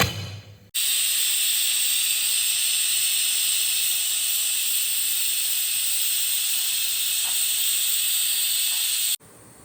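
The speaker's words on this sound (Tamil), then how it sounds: "குக்கரை மூடி 4 விசில் விட்டுடலாம்." An Indus Valley pressure cooker, cooking one-pot sambar rice, releases a loud, steady whistling hiss of steam that holds unbroken for about eight seconds, then cuts off abruptly; no talking over it.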